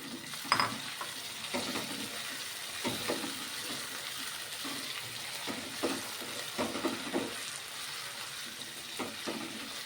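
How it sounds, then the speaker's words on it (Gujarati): Potatoes tossed into a hot pan for matar pulao, with a steady oil sizzle broken by repeated scraping stirs and clatters at an uneven rhythm, close and moderately loud, with no voices. "ત્યારબાદ બટેકા એડ કરી દેશું"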